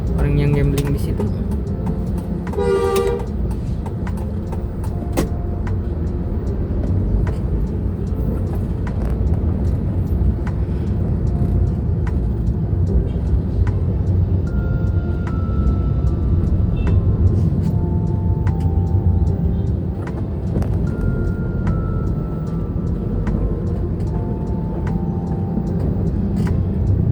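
Angkot minibuses and other traffic rumble along an Indonesian road in a steady, loud wash of engine noise, with a few horn-like tones and passing vehicles and no clear speech.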